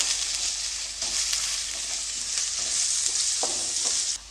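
Sliced onions frying in a pan for capsicum fried rice, a steady close hiss of sizzling oil with a few soft stirring scrapes, ending abruptly.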